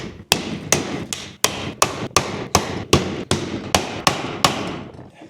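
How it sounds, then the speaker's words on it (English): Hammer blows knocking small screws out of a 1974 Kawasaki G5 100 two-stroke motorcycle engine case, about a dozen sharp metallic strikes in a steady, fairly even rhythm, close and loud with no talk. "All these little screws, we'll bang them out."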